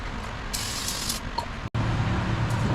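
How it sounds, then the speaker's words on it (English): A few hissing bursts of cleaner sprayed onto a Chevy Silverado part to remove oil, close by, with a steady low rumble of background noise underneath. "I'm gonna spray this off, clean it nice and good, get whatever oils off of it."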